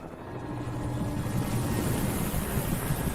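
Helicopter in the video game Alan Wake, a steady low rotor and engine drone that holds loud and even throughout, with no talk over it.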